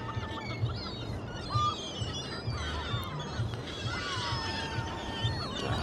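Birds squawking and honking in short calls while being fed crisps and chips in Blackpool, over a steady background rumble, some calls near and loud, others scattered and fainter.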